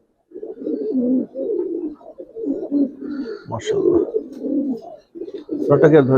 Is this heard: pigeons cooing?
yes